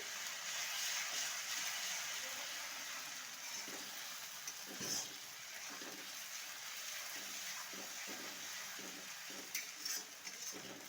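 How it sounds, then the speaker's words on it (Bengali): Crushed ginger and garlic fry in hot oil tempered with five-spice seeds, making a faint, steady sizzle broken by soft, repeated stirring scrapes of a spatula against the pan. "আদা রসুনটা খুব ভালো করে ভেজে নেবো"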